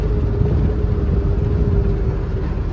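Cars driving along a road from Chitradurga toward Bangalore: a steady, close engine rumble with continuous road noise and no talk.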